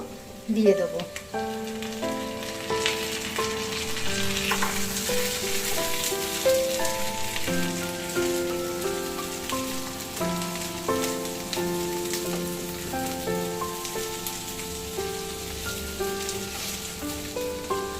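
Potato and pumpkin pieces fry in oil with a loud, continuous sizzle and a rain-like patter of bubbling, steady and close throughout.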